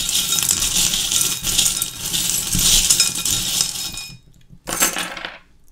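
Small divination charms are drawn and dropped, giving a rattling, clinking jumble of little metal pieces that stops briefly and then ends with one last short burst of clatter.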